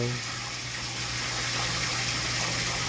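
Water pours steadily into a biofloc tilapia tank, a continuous broadband gushing rush with a low mechanical hum beneath, holding even and fairly loud throughout.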